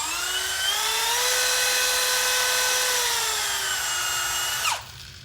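Speed-adjustable power tool spinning a nut in a workshop, a loud steady high-pitched whine that rises slightly in pitch, then drops sharply as it cuts off near the end, close and alone.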